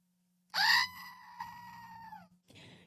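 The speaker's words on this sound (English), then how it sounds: "You got the screaming goat." A goat screams as a sound effect: one loud, piercing bleat with a wavering, drawn-out cry lasting about two seconds, then a short, quieter squawk right after.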